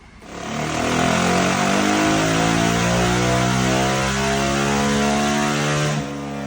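A Yamaha Raptor 700R ATV fitted with an Alba Racing full exhaust system runs close and loud, holding a steady throaty engine note with slight revving for about five seconds before cutting off abruptly.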